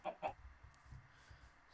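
Two quick chicken clucks open the scene, from Minecraft chickens heard close together at the start, followed by low, murmuring game ambience.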